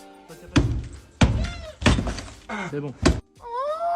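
A small kitten trapped inside a wall gives faint, thin mews between several loud, hollow thumps of someone banging on the wall, with a brief spoken phrase in between.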